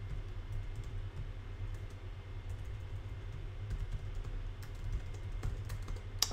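Faint, irregular clicks of typing on a computer keyboard over a steady low hum, with small scattered keystrokes rather than a continuous run.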